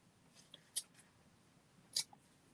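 Scissors snip through jute twine in two or three faint, crisp, close cuts, with quiet pauses between them and no talking.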